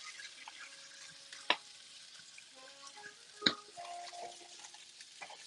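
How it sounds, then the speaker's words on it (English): Garlic and ginger paste sizzles quietly as it toasts in a pan, a soft steady crackle with two brief sharper clinks of a utensil. "I'm gonna toast up some garlic paste"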